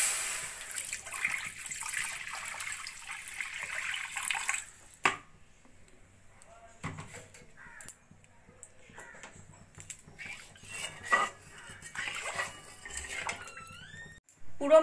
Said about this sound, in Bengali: ওই কড়াইতে দিয়ে দেবো আমি পরিমাণ মতো জল।